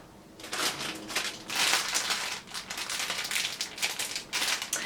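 Christmas gift wrapping paper crinkles and rustles in bursts, crisp and close, as wrapping is handled and torn over several seconds with no talking.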